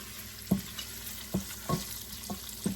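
Butter melting into hot bacon fat in a pan for Creole sautéed cabbage gives a low, steady sizzle, broken by about six soft knocks of a utensil against the pan.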